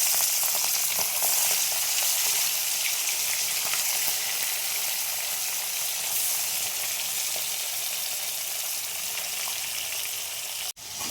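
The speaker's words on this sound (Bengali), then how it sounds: "তেলটা গরম হয়ে গেছে, আমি এবার মাছগুলো ভেজে নেব।" Fish frying in hot oil, made for a Bengali bhola fish curry: a steady, dense sizzle and crackle that holds throughout, close and fairly loud, with a brief clunk near the end.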